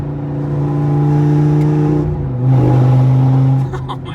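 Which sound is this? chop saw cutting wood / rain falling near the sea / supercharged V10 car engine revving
supercharged V10 car engine revving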